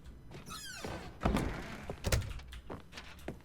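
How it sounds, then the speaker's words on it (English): A door opens in The Stanley Parable: Ultra Deluxe, with a soft creak and then a couple of dull thunks and knocks close by in a quiet room, followed by fainter taps. "This door open? This door opens too!"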